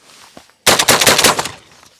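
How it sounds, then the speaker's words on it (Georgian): A quiet murmur, then a sudden loud gunshot burst from an Akdash gun with a rattling, echoing tail that fades over about a second. "ისევ გასროლა მოხდება"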